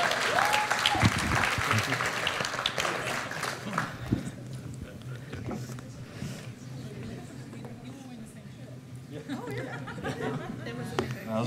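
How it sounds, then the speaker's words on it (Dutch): Church audience applauding to welcome a speaker, loud clapping mixed with cheers and a few laughs that thins out midway, while people chatter and talk over it. "laten we hem verwelkomen met een luid applaus"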